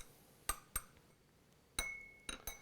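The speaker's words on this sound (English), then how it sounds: "Give it a stir." A stirring rod clinks against a glass beaker of ethanol in a chemistry demonstration: five light, sharp ticks in two uneven groups, faint and close, with no talk.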